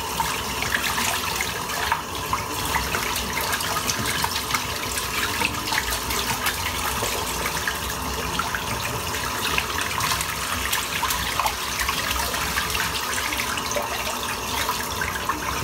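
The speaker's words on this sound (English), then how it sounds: "Just rinsing the brush out." A water tap runs steadily into a sink while a shaving brush is rinsed, giving a constant close hiss and splash with slight shifts in the flow and no speech.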